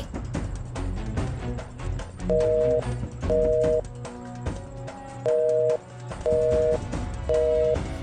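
Repeated ringback tones of an unanswered phone call, about six evenly spaced beeps over a steady background of music or room noise, close and clear.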